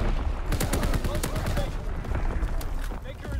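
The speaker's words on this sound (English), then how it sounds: "Incoming enemy artillery." Dense gunfire and artillery blasts from the Call of Duty WWII video game crackle in rapid overlapping bursts, loud and continuous, with game voices speaking over the battle.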